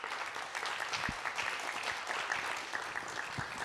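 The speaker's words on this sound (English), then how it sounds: "Please give them a round of applause." Audience applause at an afternoon panel session on conditions in Harlem, a steady, fairly faint patter of clapping across a hall with no talk over it.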